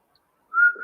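A short, clear whistled note sounds, steady then wavering, like a lone bird call, close and alone after near silence.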